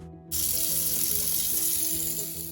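Hot water from a kitchen tap running to thaw frozen fish: a sudden onset of a steady, close gushing stream that holds evenly, then eases slightly at the end.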